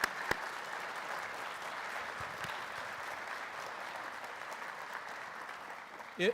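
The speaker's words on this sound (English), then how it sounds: "Let's give them all a round of applause one more time" An audience at the Penn Highlands Student Engagement Awards night gives a sustained round of applause, an even, moderately distant roar of many hands clapping for over six seconds.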